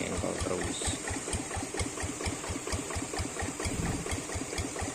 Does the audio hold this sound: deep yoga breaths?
no